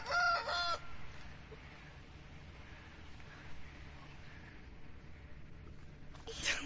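Roosters crow and cluck outdoors at a home, with a loud crow at the start and another at the end, and softer clucking and ambient rustle in between.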